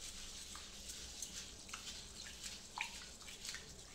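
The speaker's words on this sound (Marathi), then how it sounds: "स्वच्छ धुवून घ्यायचे" Soaked jowar grains are washed in water, with faint, quiet splashes and light drips in an irregular run.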